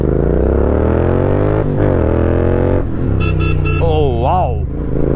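A Royal Enfield GT 650 twin-cylinder motorcycle on 95-octane fuel revs loudly up close, its exhaust note climbing in pitch, dipping and rising again over several seconds, with a brief wavering tone near the end.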